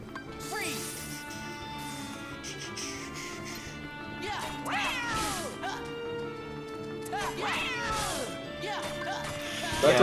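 Repeated cat meows and caterwauls in Kingdom Hearts Birth By Sleep Final Mix gameplay, rising and falling yowls over steady game music, with thuds and hits mixed in.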